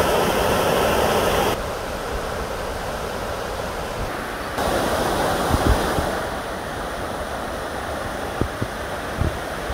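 Water of the Leno stream flowing at its mouth into the Adige river south of Rovereto, a continuous broad rushing roar with shifts in level and a few faint knocks, no speech.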